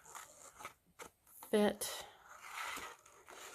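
Scissors trimming the edge of a temporary tattoo sheet, a few short crisp snips and paper crinkles close up beneath soft speech.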